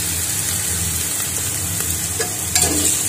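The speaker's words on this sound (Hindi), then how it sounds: "और कटी हुई लाल हरी मिर्च डालेंगे और इसको घुमाते रहेंगे" Chopped red and green chillies fry in a pan for paneer matar pulao, giving a steady sizzle with a few sharp scraping clicks of stirring near the end.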